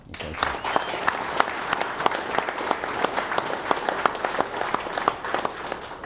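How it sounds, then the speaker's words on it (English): Sustained applause from a crowd at a political event honoring a governor, dense steady clapping at full volume throughout with no pauses. "give him another huge round of applause"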